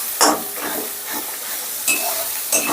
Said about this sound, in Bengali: এবারে এই মশলাটাকেও প্রায় 3-4 মিনিটের মতন বেশ ভালো করে কষে নেব।